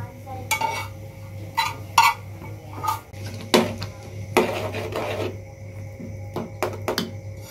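A spoon scrapes and knocks against a pan while roasted fenugreek leaves are stirred into a methi matar malai base, irregular close clinks and scrapes with brief pauses, a low steady hum underneath.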